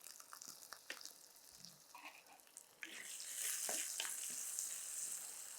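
Sliced onions sautéing with salt in a pan, a soft sizzle with light stirring clicks that swells into a louder, steady frying hiss partway through.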